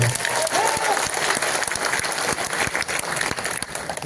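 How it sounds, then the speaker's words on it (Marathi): A crowd at a civic felicitation in Mhaswad claps loudly and steadily, dense sustained applause filling the space. "या एकदा हात वर करा जोरदार टाळ्या वाजवा"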